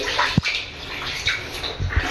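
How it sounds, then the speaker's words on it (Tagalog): A shower runs in a furnished house, giving off a steady, loud hiss of spraying water with a few soft knocks and splashes near the fixture and no talking. "Itong shower ay gumagana na din"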